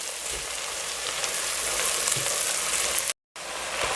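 Zucchini fries in a pan with cumin, pepper paste and spices, giving a dense, continuous sizzle with stirring scrapes that is close and steady, broken only by a brief silent gap near the end.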